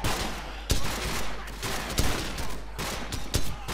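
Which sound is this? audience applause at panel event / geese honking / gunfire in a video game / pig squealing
gunfire in a video game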